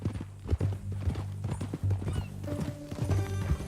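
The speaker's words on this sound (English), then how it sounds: "That new horse?" Horse hooves clip-clop in a steady rhythm in Red Dead Redemption 2, close and clear, with soft musical tones rising behind them in the latter half.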